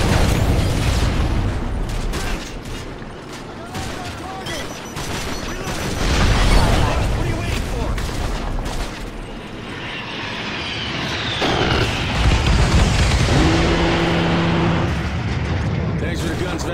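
Tanks and artillery in Call of Duty Modern Warfare 3 rumble continuously, with heavy engine and track noise, scattered gunfire and booms, and radio chatter from soldiers running through the din.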